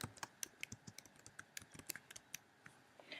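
Keys tap quickly and irregularly as a medication name is typed on a computer keyboard, with crisp, faint, close clicks in an otherwise quiet room.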